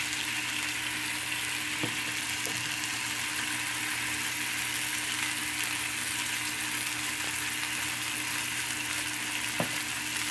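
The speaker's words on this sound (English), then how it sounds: "Just let that sizzle a little bit" Pork chops and minced onion sizzle in a pan with a steady, unbroken hiss and crackle the whole way through, close and even, with a few faint clicks.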